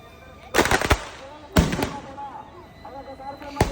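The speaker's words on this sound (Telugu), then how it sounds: "మీకు కొద్దిగా సౌండ్ వినిపిస్తాను నేను ఎందుకంటే అలా చూస్తే ఏం అర్థం కాదు సౌండ్ ఉంటేనే కదా బాగుండేది క్రాకర్స్కి" Firecrackers burst in sharp, loud cracks, three distinct blasts with crackling tails, close by against a murmuring outdoor background at a Sri Rama Navami festival.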